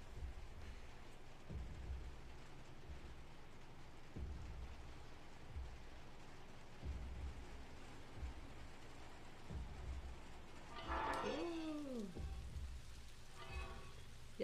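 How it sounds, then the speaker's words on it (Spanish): Steady rain falls in the video game Little Nightmares 2, a soft continuous hiss with low rumbling thuds at intervals. A brief creaking, swooping sound cuts in near the end. "salimos a la lluvia."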